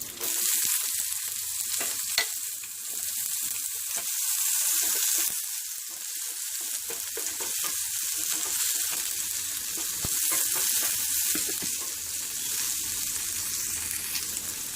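Chopped onions fry in a hot pan for Karnataka masala dosa filling, giving a steady, close hiss of sizzling oil broken by scattered clicks and scrapes of stirring.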